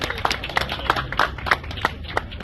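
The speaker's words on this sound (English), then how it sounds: "big round of applause for everybody on stage" Scattered claps from an outdoor crowd greet drivers at a motor show stage, irregular hand slaps of moderate loudness with a little background murmur.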